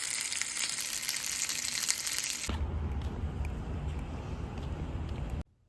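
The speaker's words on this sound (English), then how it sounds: "now I have lunch sizzling back there" Lunch sizzles and fries in a pan at a steady crackle, then the sound shifts to a lower, rumbling sizzle partway through before cutting off abruptly near the end.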